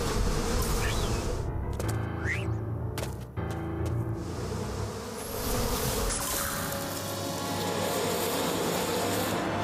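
A swarm of bees buzzing in Psychonauts 2, a dense continuous drone close by, holding steady for the whole stretch with brief whooshing sounds over it.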